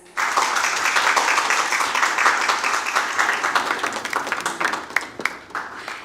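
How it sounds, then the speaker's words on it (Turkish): Applause from the guests at a school group's 10th anniversary party, a steady crowd clapping that holds strong for several seconds and then thins into scattered claps toward the end. "Ben daha coşkulu bir alkış bekliyordum ama..."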